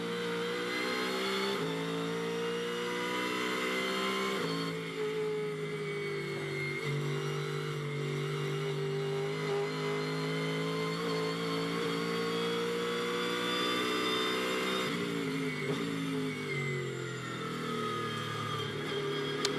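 A Ford Mustang GT race car in free practice at the Nürburgring roars in a sustained, loud, steady engine note, with brief dips as it shifts or lifts. No one speaks over it.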